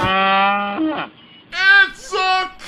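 A cow moos loudly and close, one long drawn-out low call and then two shorter rising moos after a brief pause.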